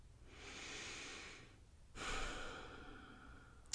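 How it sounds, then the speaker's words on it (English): Two soft, gentle breaths, a slow airy inhale followed by a longer exhale, quiet and close with a small click at the very end. "let's take a nice, gentle, cleansing breath"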